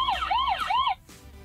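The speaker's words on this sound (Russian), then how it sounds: "Полицейская машина." A police siren wails in rising and falling sweeps, loud and close, then cuts off abruptly, leaving a low background hum.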